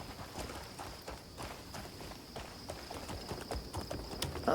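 Horse hooves clip-clop in the video game Crimson Desert, a steady walking rhythm of soft, repeated hoof strikes, moderately close and without talk.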